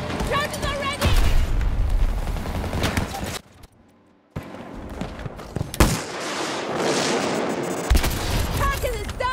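Demolition charges detonate in Battlefield 2042 amid dense gunfire and booming explosions, loud and chaotic, with a sudden near-silent gap before heavy blasts resume, and voices talking over the action.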